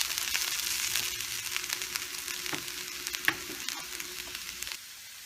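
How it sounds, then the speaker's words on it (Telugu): French beans with coriander frying in a pan for a sesame-powder beans fry give a steady, fairly loud sizzle, with scattered stirring clicks, before the sound cuts off near the end. "కొత్తిమీర కొద్దిగా ఇది వేసుకొని 1 minute ఫ్రై చేసుకోండి."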